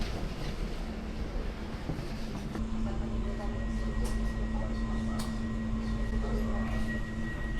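At a railway station in Poland, a train gives off a steady mechanical drone with a sustained tonal whine rising in partway through, broad rumbling noise underneath and a few sharp clanks, as a person talks faintly nearby.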